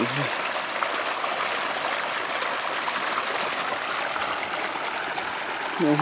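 Irrigation water flowing into a farm field, a continuous rushing, trickling wash that stays steady and fairly close from start to finish.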